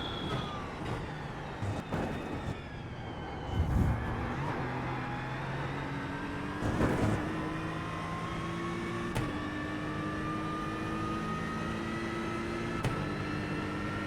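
Race car lapping Le Mans in the iRacing sim, engine whine climbing in pitch through the gears with brief shifts and dips under braking, continuous and up close.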